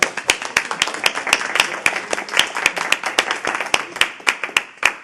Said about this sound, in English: If you'd like to give them a little round of applause